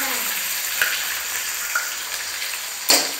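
Egg fried rice is mixed in a hot pan over a steady close sizzle, with a few light scrapes and taps of the utensil, the loudest near the end.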